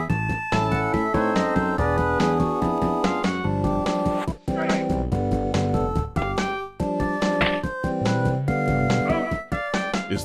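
Chiptune background music from an NES baseball video game, a dense, repetitive melody over a steady bass line with sharp note attacks, loud and continuous throughout with no voices.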